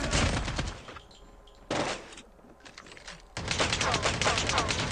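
Rapid bursts of video game gunfire come in loud clusters, dense at the start, dropping away briefly, then returning as sustained automatic fire to the end, with a voice faintly present.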